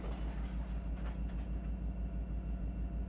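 A train rolls past in the Run 8 train simulator game with a low, steady rumble and a regular rhythmic thump of wheels over rail joints, plus faint higher squeals above it.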